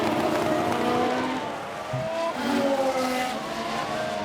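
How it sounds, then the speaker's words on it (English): A damaged Formula 1 race car engine from F1 Manager 2022 at the Singapore race drones in a continuous rough, wavering whine with shifting pitch as cars pass, no voices over it. "The engine doesn't sound good either."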